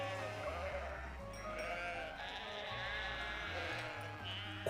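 Sheep bleat in a video game, several calls over a steady backdrop of music and ambient sound.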